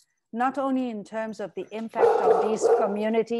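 A dog barks and yips excitedly in the background during a symposium on the COVID-19 pandemic, short bursts mixed in among a person's continuous speech.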